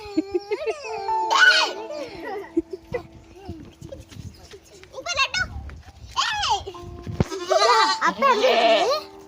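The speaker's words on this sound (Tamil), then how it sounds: "இந்த ஆடு பெரிய ஆடா இருக்குது." Goat bleats, a large goat at a grandfather's village home during a holiday visit, several close wavering cries spread through the clip, with children and adults chattering and laughing around it.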